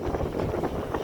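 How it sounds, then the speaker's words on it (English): Strong snowstorm wind gusts through the streets of downtown Chicago, a rough, low buffeting roar against the microphone, close and continuous for about a second. "It's very windy. You can see the wind blowing,"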